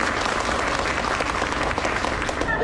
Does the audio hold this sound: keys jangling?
no